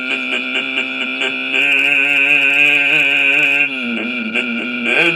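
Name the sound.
voice imitating a Yamaha motorcycle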